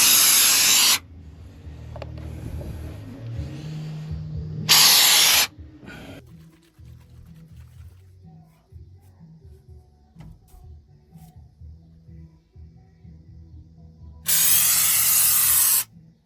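Loud bursts of hissing spray from a GREAT STUFF Wide Spray foam can, a couple of short blasts early, a stretch of quiet clicks and rattles, then another long spray.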